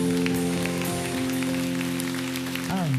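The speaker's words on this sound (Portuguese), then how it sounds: "E aplauda Jesus com alegria." A church congregation claps steadily during joyful worship, a dense, even wash of applause over sustained musical tones, with a voice briefly rising near the end.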